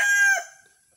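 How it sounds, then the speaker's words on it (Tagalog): A rooster crows loudly and close by, a single drawn-out call that breaks off and fades into quiet. "Yan ang mga manok"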